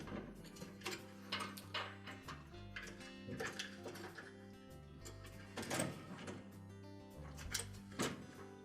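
A replacement door lock latch being fitted into a Whirlpool washing machine gives off quiet plastic clicks, taps and scraping, with irregular snaps spread through the clip and a couple of sharper clicks toward the end, close up and without talking.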